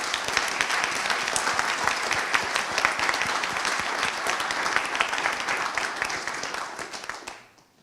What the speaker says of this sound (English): I ask that you all join me here in giving them a round of applause